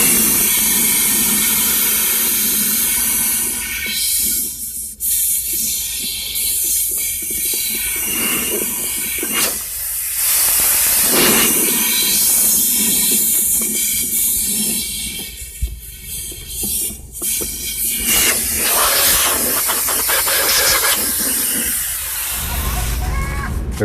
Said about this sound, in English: I'm gonna put some air down into that tank and make sure all that old fuel is out.